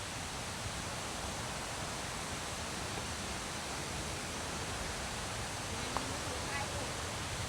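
Constant roaring rush of falling water, a broad steady wash of noise with no breaks.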